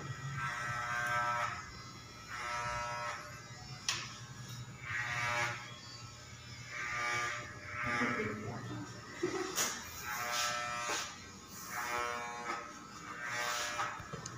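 An electric razor buzzes in steady, pulsing passes while cutting a woman's hair into a pixie cut in a salon, with voices talking softly over the hum.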